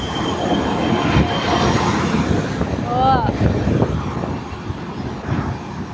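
A train rumbles past near the Devil's Bridge at Andermatt, Switzerland, with a brief high wheel squeal, a steady heavy roar throughout, and a voice speaking briefly over it.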